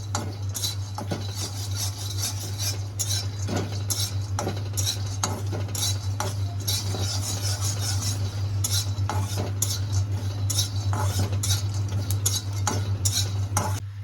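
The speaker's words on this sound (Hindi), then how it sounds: "इसे अब हम अच्छी तरीके से भून लेंगे ग्राउंडनट को भी" Groundnuts dry-roast in a pan with constant rhythmic stirring, the spoon scraping and clinking against metal over a low steady hum, close and continuous with no speech.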